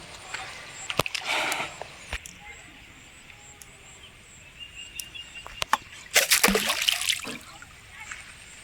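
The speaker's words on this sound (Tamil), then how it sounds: "இப்போ தண்ணியை கலக்கி தூக்கி போடுறேன்" Flour bait mixed with water and tossed into a lake while fishing, a few sharp splashes and sloshes, close by, with quieter stretches between them, and someone talking over parts.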